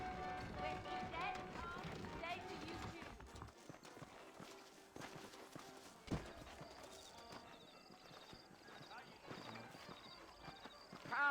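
Horse hooves clip-clop steadily in the Red Dead Redemption video game as saddled horses move near a frontier town, over ambient game sound and a voice speaking, with an occasional whinny.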